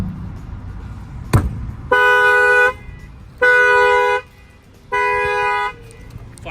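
Honda Accord car alarm tripped by its shock sensor: a sharp knock on the car, then three loud, evenly spaced horn-like blasts, each about a second long, close by with short gaps between.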